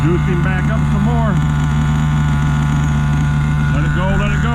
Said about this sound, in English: He's idling good now.